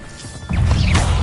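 An Incendio fire spell cast in Hogwarts Legacy: a quiet lead-in, then a sudden loud burst at about half a second, a crackling fiery whoosh that sweeps upward and holds steady to the end.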